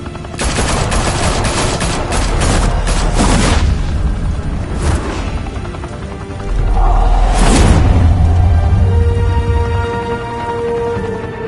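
Gunfire in the Batman Telltale video game, with dense bursts of shots and heavy booms rolling over one another, loud and close, followed by a rumbling blast and a sustained low drone.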